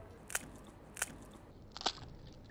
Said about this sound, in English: I love it when you get the little air bubbles and you get a bit of a crunch